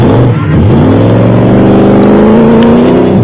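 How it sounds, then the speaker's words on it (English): Off-road race cars at the Mafikeng off-road race in South Africa, one engine roaring loud and close, its pitch shifting as it accelerates past, with a sustained mechanical drone. "there was a traffic jam at a Marshall Point, with cars arriving thick and fast"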